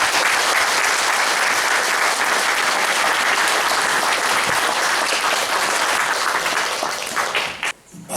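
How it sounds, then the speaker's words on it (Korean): An audience at a book-launch lecture gives a pastor a big round of applause as he is welcomed, a thick, continuous clapping that holds steady for several seconds before cutting off abruptly. "모두 큰 박수로 맞이해 주십시오."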